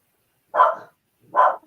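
A dog gives two separate, sharp barks about a second apart, close and loud against silence.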